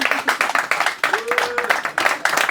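Audience clapping at a Paris stand-up comedy show, a run of bursty handclaps lasting the whole moment, fairly close and loud, with a brief voice and a whistle-like tone rising partway through.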